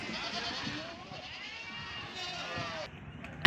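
Goats bleating while packed tightly onto tempos and trucks for transport in India, several wavering cries amid background noise, with a voice talking over them.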